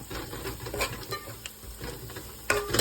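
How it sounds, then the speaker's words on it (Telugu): Masala and chili powder fry in oil in a pot for a bachelor-style chicken biryani, giving a steady sizzle with scraping stirs and a louder clatter of utensils near the end, with no talk. "నూనెలో ఈ మసాలా, ఈ కారము ఇదంతా ఫ్రై కావాలి"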